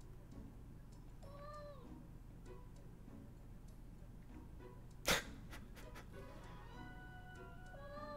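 Cat meows heard in the Fullmetal Alchemist 2 video game: a few faint, drawn-out meows rise over a steady low background hum, followed by a sharp sneeze-like burst and more small cries near the end.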